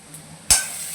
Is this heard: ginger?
yes